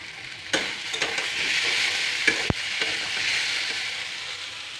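Fish frying in a pan makes a steady close sizzle, broken by a few sharp clicks and scrapes of a spatula stirring; no voices.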